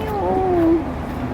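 A single drawn-out cat meow, clear and close, in North Point, Hong Kong, sliding downward in pitch over faint background noise.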